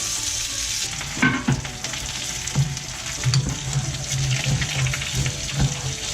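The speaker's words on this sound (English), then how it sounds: "You will see me put some butter into the pan to finish off the fish fingers" Fish fingers fry in butter in a pan, giving a steady close sizzle with a few scraping stirs and turning clatters; no one speaks.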